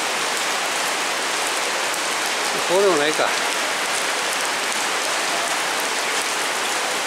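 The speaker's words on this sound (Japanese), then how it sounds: "よう雨の量多いんちゃうか。" Heavy rain pouring onto a surface in Yamato-Takada during a heavy-rain warning: a loud, steady, dense hiss filling the whole clip, with a brief man's remark partway through.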